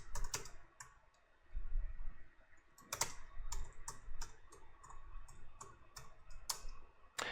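Quiet clicking of computer keyboard keys as a command is typed for a Cisco 2800 router setup, irregular bursts of keystrokes with short pauses, close and soft, no talking.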